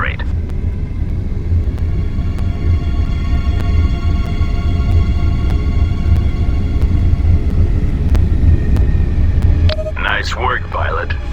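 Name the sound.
spacecraft accelerating to maximum velocity in video game X: Beyond the Frontier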